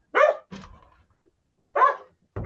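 A dog barks outdoors on a walk, giving a few sharp, loud barks in separate bursts with short silent gaps between them and no talk.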